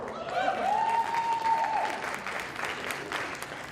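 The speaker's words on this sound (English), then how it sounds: "Can we have a round of applause?" An audience at a REV SQUAD U conference session gives a round of applause, a sustained even patter of clapping with a cheering whoop rising over it early on.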